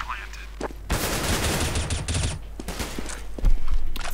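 Loud, close gunfire in the video game CS:GO, with rapid automatic bursts rattling almost continuously, a short lull, then another heavy burst near the end, while a voice talks faintly underneath.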